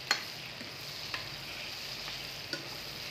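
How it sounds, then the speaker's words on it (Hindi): Chopped onions and garlic fry in oil left over from frying chicken for a Kashmiri-style chicken curry, a faint steady sizzle with a few light clinks of stirring. "इसमें हम ये इसी ऑयल में हम ऐड करेंगे जिसमें हमने चिकन को फ्राई किया था"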